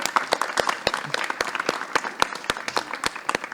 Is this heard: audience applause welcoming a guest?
yes